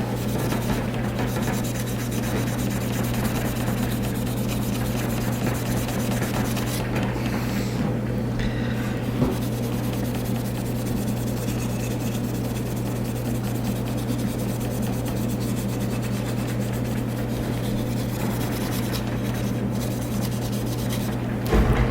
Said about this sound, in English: You have to grind it down.